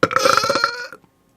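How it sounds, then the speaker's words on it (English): A single loud, rough burp from a man after eating a McPlant burger, lasting about a second, close and alone before falling silent. "That was a double McPlant burp, that was."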